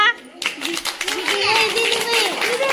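Children clap together in a quick scattered patter that soon turns into a steady round of applause, with young voices chattering over it.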